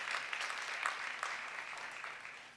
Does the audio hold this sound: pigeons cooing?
no